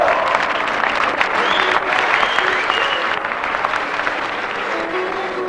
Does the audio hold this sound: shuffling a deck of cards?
no